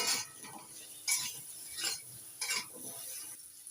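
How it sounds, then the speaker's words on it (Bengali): Potatoes frying in oil with salt and turmeric, a soft sizzle punctuated by about five rhythmic scraping stirs of a spatula against the pan, close and fairly quiet, with no talking. "আলুগুলো লাল করে ভেজে নিচ্ছি"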